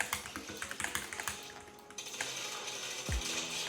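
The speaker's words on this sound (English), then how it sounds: "I'm like slowly realizing how loud this keyboard actually is now" Rapid clacky keystrokes on a mechanical keyboard, close and fairly loud, rattle in an uneven rhythm before trailing into a few scattered clicks.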